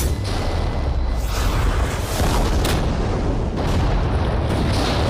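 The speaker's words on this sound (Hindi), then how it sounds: "ये एक बहुत ही बड़ा धमाका होने वाला है" A massive explosion from a giant creeper experiment, a dense continuous roar of rumbling blasts and booms sustained loudly throughout.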